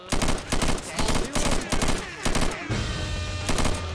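Rapid bursts from a special gun in Left 4 Dead 2, loud close shots in quick repeated volleys broken by short gaps, with a low rumble near the end.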